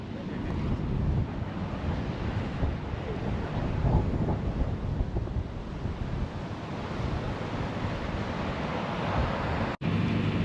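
Strong, steady wind buffets the microphone over a low wash of Caribbean sea, gusting in rumbling surges with no clear voices.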